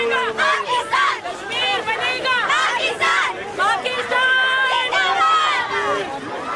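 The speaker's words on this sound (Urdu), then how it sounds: "واک کے شرکاء نے نعرے بھی لگائے" Participants in a Kashmir solidarity rally walk shout slogans in unison, a loud rhythmic crowd chant repeated in bursts with voices rising and falling together close by.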